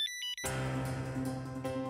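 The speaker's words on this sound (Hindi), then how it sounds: "जिया, अरे चुप रहो, भाई जी का फोन है।" A brief electronic ringtone melody chimes, then a louder sustained tonal ring with rich harmonics continues.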